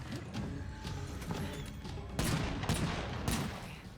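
Gunfire in State of Decay 2: a steady patter of shots runs underneath, then three louder, sharper blasts land near the end, with no talking.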